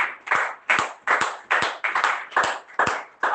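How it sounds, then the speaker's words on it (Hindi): A church congregation claps together in a strong, steady rhythm, about three claps per second, loud and close with no talking over it. "जिंदा खुदा बाप के लिए एक बार जोरदार ताली"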